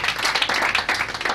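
A church congregation applauds and claps for Jesus, a dense, steady burst of many hands that stays loud and close from start to finish.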